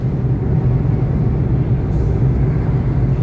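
Steady highway traffic at night on a Delhi to Dehradun road, with many trucks passing; a continuous low engine rumble that never lets up, no voices.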